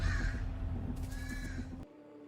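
A crow caws twice in a movie trailer, the harsh calls fairly faint over a low steady background hum.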